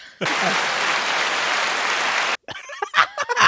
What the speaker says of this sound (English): You played the fucking applause on the soundboard